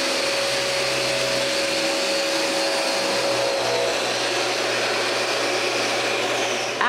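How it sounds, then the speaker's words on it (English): A linear sander running at low speed sands varnished wood pieces of a small writing desk, giving a loud, steady, close motor drone with a constant whine throughout, no talking. "Alain uses the linear sander at a low speed for the big pieces."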